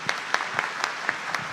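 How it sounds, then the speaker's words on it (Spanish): Applause from an audience at an official event with the Comptroller General of Chile, a few clear, evenly spaced claps standing out over lighter clapping, brief and moderately close. "un aplauso de todos para ustedes"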